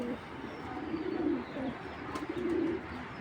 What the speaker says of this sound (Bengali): তো যাই হোক, এই দুইটা কবুতর একটু দেখাই।